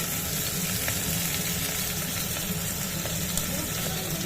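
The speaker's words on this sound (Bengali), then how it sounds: "অল্প নাড়বো বেশি নাড়বও না টমেটোটাও দিয়ে দিলাম" Mutton curry fries in a pan just after tomato goes in, a loud, dense sizzle and bubbling crackle running without a break as it is stirred.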